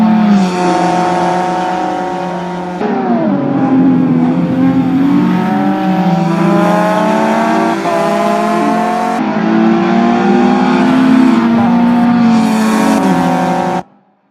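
Race cars in a Group N revival event, including an Opel, roar past on track, with loud sustained engine notes rising and falling through gear changes and passes, continuous with no talk.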